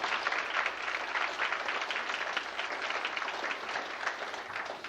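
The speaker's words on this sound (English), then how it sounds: "Give them a round of applause." A banquet audience at a 2000 Casey County FFA event gives sustained applause, dense clapping from many hands filling the room steadily from start to finish.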